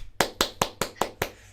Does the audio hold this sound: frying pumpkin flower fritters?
no